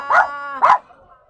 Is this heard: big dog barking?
yes